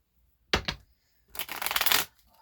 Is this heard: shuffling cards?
yes